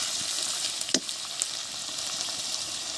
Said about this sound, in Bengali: কড়াইতে তেল দিয়ে দিচ্ছি। ফোড়নে দিচ্ছি জিরে, পেঁয়াজ রসুন বাটা